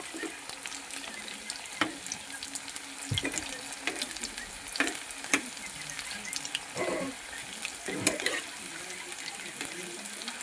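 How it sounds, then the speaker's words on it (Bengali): Drumstick flower chops fry in hot oil and are turned side to side, a continuous soft sizzle punctuated by sharper clatters and splashy bursts at irregular intervals. "এরকম এপিট ওপিট করে এরকম সব ভেজে তুলে নেব।"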